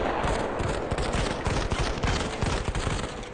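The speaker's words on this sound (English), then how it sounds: "Where are we getting shot at?" Gunfire in the mobile shooter Modern Combat 5, a dense, loud stream of rapid automatic shots and overlapping bursts crackling throughout without pause, with no talking.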